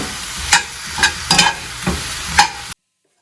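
Honey chilli chicken stirred and tossed in a pan, with five sharp scraping strokes spaced about half a second apart over a steady sizzle and nobody talking, before the clip cuts to silence.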